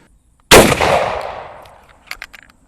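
A single sharp, loud carbine rifle shot rings out outdoors and trails into a long fading echo, followed by a few faint clicks and rattles.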